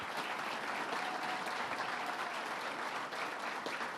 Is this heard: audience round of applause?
yes